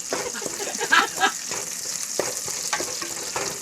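Small shallots and garlic sautéing in a pan for a Tamil dry fish curry, a loud steady sizzle with intermittent stirring scrapes and a few sharper clinks near the start.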